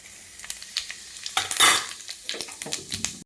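A spoonful of cumin seeds dropped into hot oil in a pan bursts into a sharp, loud crackling sizzle, with spoon clinks and scraping around it, close and without voices.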